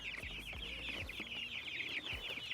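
Several chickens clucking steadily at close range while being moved into a grass-floored chicken tractor on a homestead, with soft thumps and handling noises underneath.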